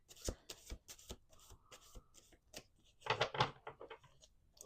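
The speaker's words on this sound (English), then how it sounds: "Let's do 2 more shuffles." A tarot deck is shuffled by hand on a table, giving quiet riffling and flicking sounds in short bursts, with a denser, louder riffle near the end.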